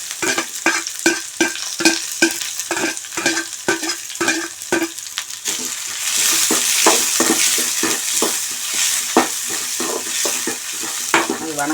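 Chopped onions and curry leaves sauté in oil with mustard seeds in a pan, with repeated rhythmic stirring scrapes at first, then a louder, denser sizzle toward the end, close up with no voices.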